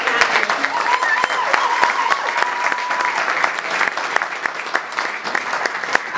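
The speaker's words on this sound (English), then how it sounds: "I wanted just to give a big applause to all of our staff in the back" A luncheon audience claps for the staff at the back of the room, dense sustained applause filling the room, with some voices mixed in.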